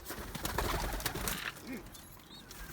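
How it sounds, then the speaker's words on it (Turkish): Pigeons coo softly among rustling and background noise, a few low rounded calls close by. "Evet arkadaşlar kuşlar bunlar."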